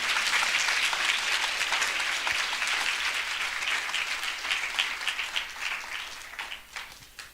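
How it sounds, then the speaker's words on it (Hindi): A church congregation applauding after a reading during a Hindi-language sermon, sustained loud clapping from many hands that tapers off toward the end. "आइए हम इस वचन के लिए अच्छी ताली बजाएंगे।"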